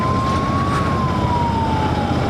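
An ambulance siren wails steadily in a single sustained tone, passing at moderate distance over low traffic noise in Indore, near Dewas Naka.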